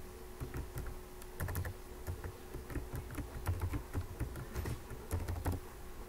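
A computer keyboard is typed on at a steady, quick pace while a password is entered, producing soft, close clicks with no talking.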